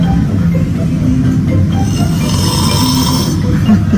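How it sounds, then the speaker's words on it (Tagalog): Loud, steady snoring pushed through a microphone held right at a sleeper's mouth, a continuous rasping drone with rumbling low end filling the whole four seconds. "dinig na dinig ang hilik sa buong paligid"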